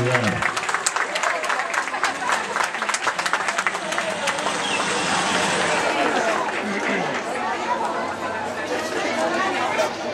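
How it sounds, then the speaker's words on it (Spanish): Audience claps and chatters for a chihuahua named Goya taking second place at a dog show, the applause mixed with crowd babble and a voice talking over it throughout. "El aplauso para ella, segundo lugar."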